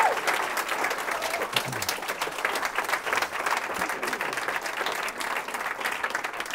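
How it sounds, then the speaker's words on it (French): A live audience at a spoken-word poetry show claps in a dense, steady burst of applause lasting several seconds, with crowd noise mixed in and no talking. "On applaudit tout ce beau monde!"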